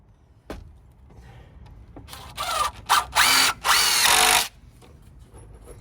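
Cordless drill driving screws into a 2x6 board on a ground-level deck: a few short whirring bursts building to louder, longer high-pitched runs as each screw seats, with quiet gaps and taps between.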